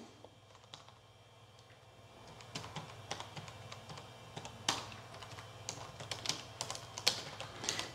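Commands typed on a PC keyboard for an MS-DOS infrared file transfer: quiet, close key taps that start sparse and grow into an uneven stream of clicks over a low steady hum, with no voices.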